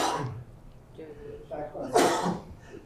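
A single sharp sneeze bursts out loudly near the end during a morning life insurance training session, after quieter breaths and a brief cough-like sound.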